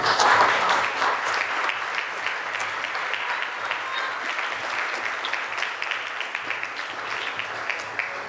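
A school audience applauds student council leaders at an investiture ceremony, a dense, sustained round of clapping that peaks at the start and continues steadily throughout, with faint voices mixed in.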